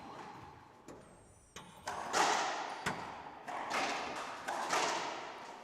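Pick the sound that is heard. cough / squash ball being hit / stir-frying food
squash ball being hit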